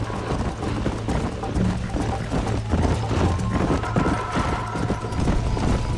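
Horse hooves gallop rapidly and continuously in the Red Dead Redemption video game, a close, rhythmic pounding over steady outdoor ambience, with no talking.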